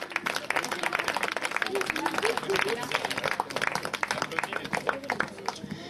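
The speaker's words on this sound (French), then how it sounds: "Vous pouvez applaudir les deux équipes." Spectators at a polo match applaud the two teams after the final result, with steady dense clapping running the full length, mixed with crowd murmur and a voice speaking over the ovation.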